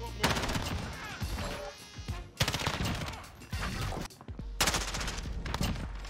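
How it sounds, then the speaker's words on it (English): A shotgun in Modern Warfare fires in sharp, loud bursts amid rapid gunfire, with three dense clusters of shots separated by short lulls. "that is the first initial reaction to using this shotgun"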